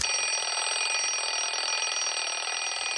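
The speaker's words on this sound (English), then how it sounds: "There's a built-in personal alarm clock." A cartoon alarm clock built into a portable stereo rings continuously, a loud, steady bright electronic-style bell that fills the whole stretch without a break.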